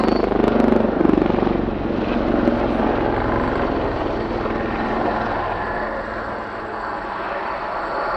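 A Wildcat military helicopter, an offshoot of the Lynx family, roars through a flying pass at an air show display, its loud, steady rotor and turbine noise holding close throughout.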